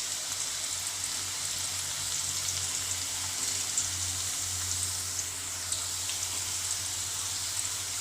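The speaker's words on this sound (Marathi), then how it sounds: "बघा बारीक गॅसवर असे तळतो." Thin banana slices fry in hot oil over a low flame for homemade wafers, giving a continuous even hiss of bubbling that stays steady and close throughout.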